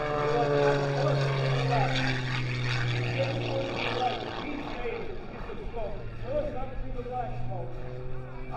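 Aerobatic monoplane at an air show with Thunderbirds jets nearby, a steady loud propeller-engine drone with a low hum that swells and fades as it passes, under an announcer speaking over a PA.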